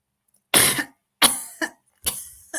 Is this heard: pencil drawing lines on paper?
no